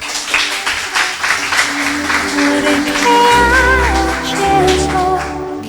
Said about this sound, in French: Je vous demande d'applaudir cette équipe, s'il vous plaît.